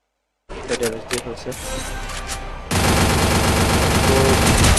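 Bursts of gunfire from a shooting video game crackle in quick shots and short volleys, then a dense, loud stretch of rapid firing fills the second half, close and without talk.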